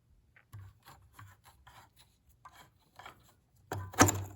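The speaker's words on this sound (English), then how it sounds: "That's the way I file or grind the chain" A chainsaw chain is hand-filed at the cutter tooth in a series of short, rasping strokes in a steady rhythm, ending in a louder, harsher burst of filing close to the ear.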